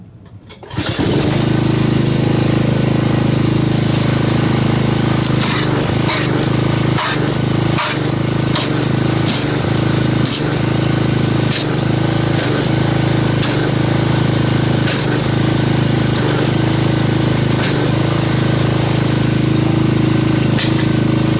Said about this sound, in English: let me go ahead and get the pressure washer and let's see what kind of foam this makes